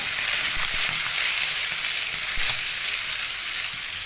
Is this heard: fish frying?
yes